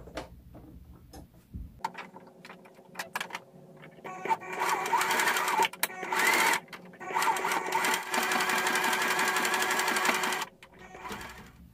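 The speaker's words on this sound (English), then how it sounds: "I am now done doing the little zigzag stitch, done stitching" A sewing machine runs zigzag stitches along the edge of sweatpants fabric, whirring in several bursts of rapid mechanical ticking separated by brief pauses, close and fairly loud.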